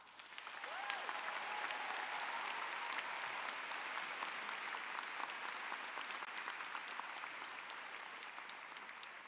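Steady applause from a psychology commencement ceremony audience, a broad, even wash of many hands clapping that swells quickly and holds for the whole stretch, heard at moderate distance.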